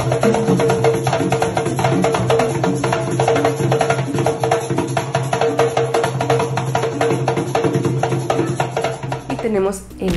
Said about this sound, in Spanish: Tenemos la caja, que la heredamos de los africanos y suena así.